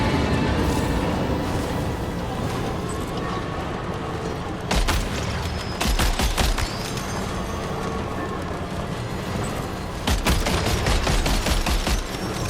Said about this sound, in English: I guess my vehicle gun will just do that work for me.